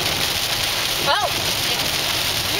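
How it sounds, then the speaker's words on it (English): Heavy rain drums steadily on a moving car while driving, a loud, dense wash of water noise that continues throughout, with a brief sweeping whine partway through. "driving in the rain, scaring everybody"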